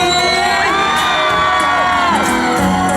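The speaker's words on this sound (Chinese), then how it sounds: "所有中年朋友，你们尖叫声在哪里？" An audience at a Ghost Festival temple concert screams and cheers in a dense, loud wall of shrill voices for three seconds, with music tones ringing underneath.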